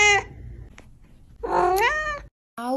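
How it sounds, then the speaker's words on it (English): A fluffy, chubby pet cat meows up close, with one short call at the start, a longer rising meow in the middle and a final meow cut off at the end, separated by quiet gaps. "This is your daily kitty."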